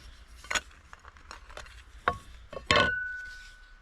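A small frying pan handled outdoors, giving several light metallic clinks and knocks, with one louder ringing clang near the end that trails off.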